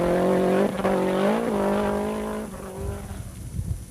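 A Toyota Celica GT4 rally car speeds through a desert stage, its engine note rising loud and close, then fading and roughening as it pulls away with gravelly rumble.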